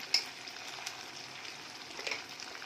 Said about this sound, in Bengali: দিয়ে মশলাগুলোকে ভালোভাবে কষে নেব